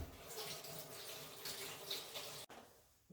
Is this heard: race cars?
no